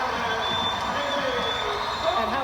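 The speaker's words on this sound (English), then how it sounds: "you hear the Cornhusker fans cheering for Bosiger" Cornhusker fans at a Nebraska volleyball match against Stanford make a steady roar of crowd cheering under a commentator's continuous talk.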